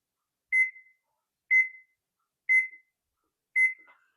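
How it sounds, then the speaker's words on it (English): A kitchen timer being set while a breakfast casserole goes into the oven gives four short, clear beeps, evenly spaced about a second apart, close and alone with silence between them. "we're going to set the timer for, I'm going to start out at 35 minutes."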